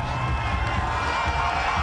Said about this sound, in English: Crowd, they're getting a little toey.